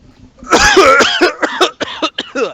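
A person fakes a string of coughs during a tabletop role-play session, several harsh throaty bursts close up, starting loud and clustered and then breaking into shorter separate hacks.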